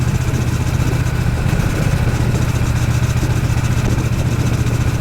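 A Triumph Bonneville motorcycle engine drones steadily at cruising speed while riding, a continuous low hum with wind noise and no talk.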